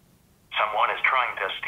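A phone ringing with an incoming alert call from an armed bike lock after its cable is cut, a bright warbling electronic ring starting after a short quiet gap and repeating in close, loud bursts.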